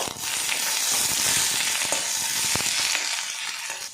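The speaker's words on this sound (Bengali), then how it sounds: "এগুলো আমি ভাজা ভাজা করে দেব।" Chopped garlic and onion frying with bay leaf and chilli in mustard oil for a lentil, potato and tomato dish, a loud close crackling sizzle with occasional stirring clicks, easing slightly toward the end.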